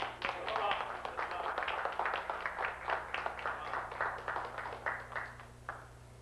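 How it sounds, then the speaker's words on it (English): Audience clapping by hand to welcome a speaker at a religious community gathering, a steady patter of many hands held at moderate loudness over a low background hum, with crowd noise mixed in. "Let's greet this brother with a hearty hand clap and a hearty Islam."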